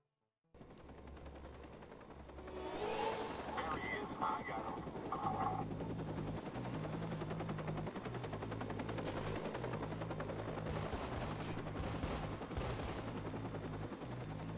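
Heavy automatic gunfire in the Watch Dogs video game, loud and nearly continuous after a short build-up, with a low droning engine-like hum beneath the rapid bursts.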